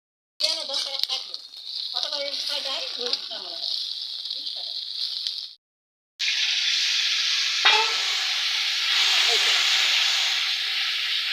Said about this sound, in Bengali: মশলাগুলো দিয়ে আমি ভেজে নিচ্ছি